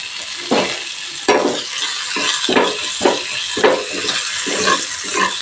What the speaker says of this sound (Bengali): গোল্ডেন হওয়া অবধি ভেজে নেব রসুনটা।